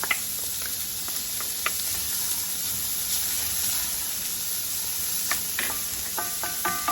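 Chopped celery and carrots sizzling with onions in a pan for leftover turkey pot pie, a steady bright hiss with scattered pops and a few utensil clinks, no talking.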